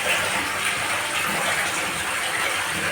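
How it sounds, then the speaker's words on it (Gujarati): Steady, loud rush of water gushing from a borewell into a well, a continuous broadband roar with no pauses, close to the listener. "જોરદાર પાણી આવી ગયું હોય ભાઈ"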